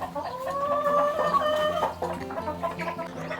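Naked neck hens cluck close by with short throaty calls, and a rooster's crow rises over them in a busy poultry yard.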